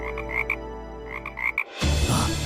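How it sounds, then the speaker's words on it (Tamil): Frogs croaking in repeated short pulses over a steady chorus, then cut off abruptly by a louder rushing noise. "இங்க தவளைங்க கத்துற சத்தம் கேக்குது,"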